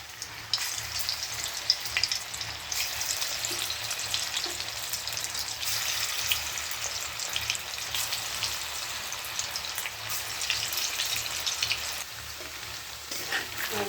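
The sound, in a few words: lentil fritters (bora) frying in hot oil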